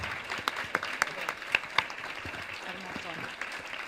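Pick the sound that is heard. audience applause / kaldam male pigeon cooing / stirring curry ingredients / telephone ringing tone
audience applause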